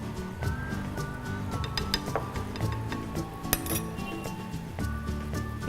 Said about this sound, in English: again you stir this